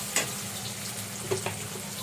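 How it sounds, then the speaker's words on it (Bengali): Steady, close sizzling of onions frying in hot oil until browned, with a couple of soft stirring scrapes along the way; no one speaks. "পেঁয়াজটা লাল লাল করে ভাজা হয়ে গেছে"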